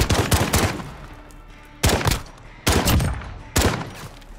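Bursts of automatic gunfire during a Call of Duty gunfight, four loud rapid volleys with short gaps between them, no talk over the shots.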